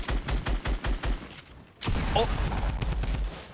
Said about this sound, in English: There's that drum gun again, man. Just sounds so awesome.